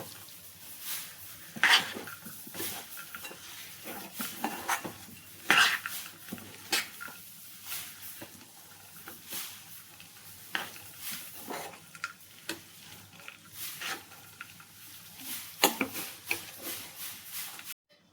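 Spoon scraping and knocking in a pan while a date and dry fruit laddu mixture with raisins is stirred, off the heat, giving irregular clinks and scrapes at close range with no voices.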